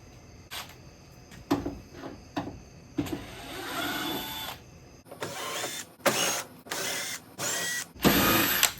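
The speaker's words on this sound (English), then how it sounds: "I'm just going to take these top screws out so I can fold this back." Screws being backed out of the top of a 1970s Ford truck tailgate with a power driver, several short whirring bursts early on, then a longer run and four or five loud, evenly spaced bursts, close and alone.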